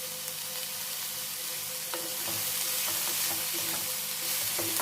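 Snake gourd pieces frying in a pan, a dense continuous sizzle with repeated scraping strokes of a spatula stirring, close and steady with no talking.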